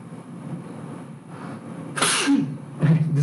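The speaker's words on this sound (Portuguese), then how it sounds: "Tentei não espirrar para não aparecer aqui na gravação" A person sneezes indoors, a sharp close burst after a short intake of breath, then a second smaller sneeze moments later, loud against a quiet room.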